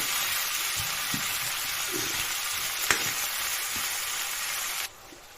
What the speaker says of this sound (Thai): เป็นกระลำผัดน้ำปลากระเทียมเด้อแก้เผ็ด